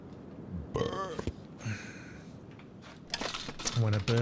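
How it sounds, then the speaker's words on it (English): Two or three short, close burps break through a faint background, followed by a stretch of talk near the end. "When a burp actually makes a burp noise."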